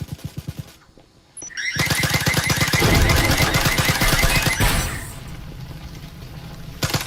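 Rapid automatic gunfire punching through a wall during a competitive VR match of Breachers, a dense sustained burst of shots after a brief quiet gap, loud and close with sharp impacts at start and end.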